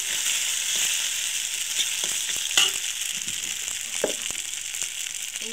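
Beaten eggs frying in a pan for a pasta dish, a dense steady sizzle throughout with scattered scrapes and taps of a spatula stirring them, close and fairly loud, no voices.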